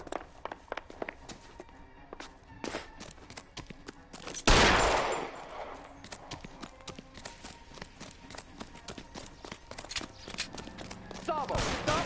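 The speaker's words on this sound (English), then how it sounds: "市民撃っちゃいましたね。" A single loud gunshot rings out as a civilian is shot in the crime game L.A. Noire, a sharp burst under steady game dialogue and footsteps, with talk continuing before and after.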